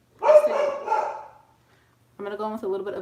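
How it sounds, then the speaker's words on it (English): A pet dog barks indoors during a morning makeup routine, giving a burst of several sharp barks, then a pause, then a second run of tonal yelps, close and fairly loud. "let me get my dog. She keeps barking."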